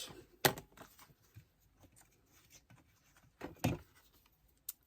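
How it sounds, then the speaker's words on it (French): Paper is cut by hand with scissors for a scrapbooking folder, giving a few sharp, quiet snips spaced apart with soft rustling between them in a hushed room. "Moi, comme c'est pas trop long, je le fais au ciseau"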